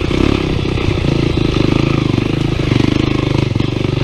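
A Honda NX motorcycle rides along a dirt trail, its engine droning loud and steady with a low throbbing pulse and some rattling clatter, close to the rider, with no talk over it.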